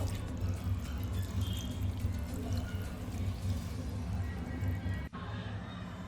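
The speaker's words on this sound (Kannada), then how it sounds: "ಬೇಯಕ್ಕೆ ನೀರು ಹಾಕ್ಕೊಳ್ತಾ ಇದ್ದೀನಿ ಸ್ವಲ್ಪ" Water being poured into a cooking pot over lentils, onion, garlic, turmeric and greens, a steady close trickling pour that ends abruptly with a sharp clank near the end.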